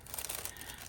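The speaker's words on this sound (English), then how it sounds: "I just remembered I put these in a plastic bag" Plastic bag crinkling as it is opened, a short burst of dense, close crackling rustle with no voices.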